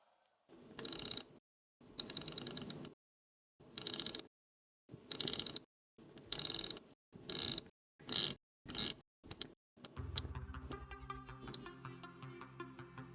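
Bursts of rapid ratcheting clicks from a Seiko watch bezel being turned repeat in short turns with pauses between, growing quicker toward the end, close and crisp, followed by softer clicking.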